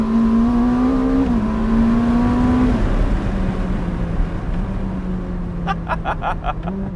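Ferrari SF90 Spider hybrid engine droning at speed, the pitch stepping down as the carbon fiber paddle shifters drop gears, followed by a short burst of rapid clicks near the end, loud and close, no speech.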